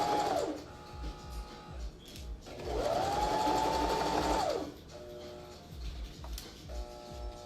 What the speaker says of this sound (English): I'm going to back stitch at the beginning, and I'm just making sure that the needle is going right over that edge